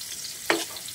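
Onion sautéing in a pan, a soft sizzle broken by two quick scraping stir strokes, one midway and one at the end.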